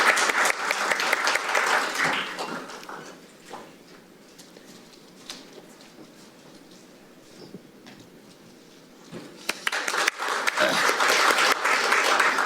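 A crowd at a National Assembly forum applauds, loud at first. The clapping fades to a near lull with a few scattered claps, then swells again into full applause at the end.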